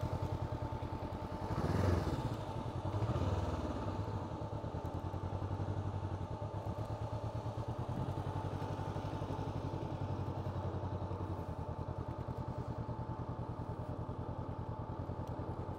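A motorcycle idles steadily at low volume during a beginner riding lesson, with a couple of soft thumps and clatter early on as the clutch and brake are worked.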